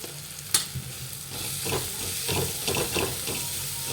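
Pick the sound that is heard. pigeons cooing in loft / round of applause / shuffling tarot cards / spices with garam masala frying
spices with garam masala frying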